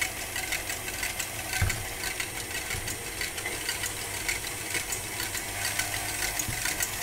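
An electric mixer whips egg whites at low speed, giving a steady, moderate motor hum with a light rattling vibration and small irregular knocks throughout, and no voices.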